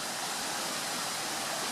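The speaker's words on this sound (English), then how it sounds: "Water running high, but that's usual." A swollen creek runs high after hurricane flooding, a steady, loud, broadband rush of water that holds unbroken and close throughout.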